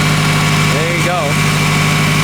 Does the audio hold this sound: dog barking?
no